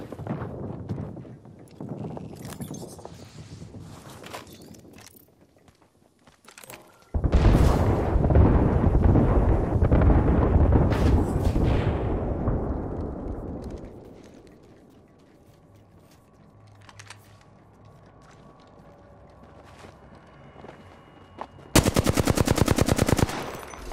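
Heavy artillery strike and rapid gunfire in Apex Legends on PS4 Pro: scattered shots, then a long roaring explosive barrage that fades into a low rumble, followed by a sudden loud burst of automatic fire at the end.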